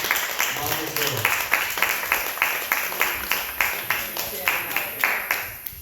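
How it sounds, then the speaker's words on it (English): Audience applause for Mama at a health event, steady clapping across the room with rhythmic pulses that rise and fall, moderately loud with some crowd voices underneath. "Give a big round of applause for Mama."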